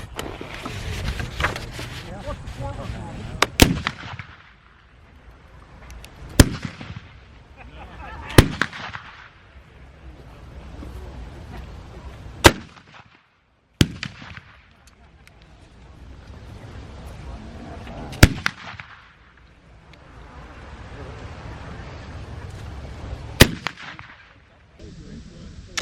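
Muzzleloading rifles fired at a 1920s-era outdoor shooting competition, several loud booming shots spaced a few seconds apart with rolling echoes, under ongoing nearby chatter among shooters.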